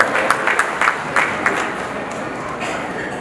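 Applause from an audience at a JITO oath-taking ceremony, a dense steady wash of clapping with a few sharper claps standing out, continuing evenly at moderate loudness throughout.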